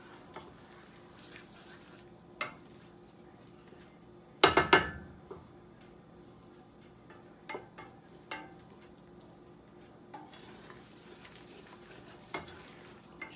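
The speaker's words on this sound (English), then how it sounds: "Just keep stirring it." Vegetables for a chicken and sausage gumbo sizzle and fry in a pot while being stirred, a steady low crackle with a sharp burst of scraping clatter near the start and a few softer knocks later.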